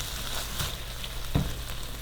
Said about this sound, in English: Turn the heat up a little bit. Mix all of that together.